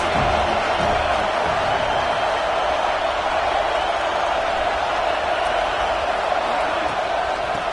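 Crowd noise at a Wisconsin football game fills the stadium with a dense, steady roar that holds at an even level the whole time, with no breaks or distinct cheers standing out.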